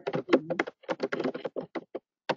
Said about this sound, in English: Your typing is kind of overwhelming the microphone a little bit